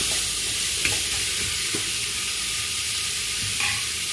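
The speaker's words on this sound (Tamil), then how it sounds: "நல்லா பாவக்காய் வணங்கட்டும்" Steady sizzling of bitter gourd frying in a hot pan, with occasional scrapes and clinks of a spatula stirring, close and continuous.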